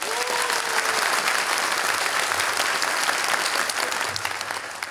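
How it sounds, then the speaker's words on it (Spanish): Audience applause at a Halloween show, steady dense clapping from a crowd that fills the whole stretch at a loud, even level with no break. "Solamente aplausos, no gritos."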